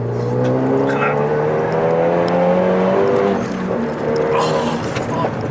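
Renault Megane RS with a turbo hybrid upgrade accelerating hard, engine note rising steadily through the gears with a loud interior roar and a shift partway through, while a voice talks over it.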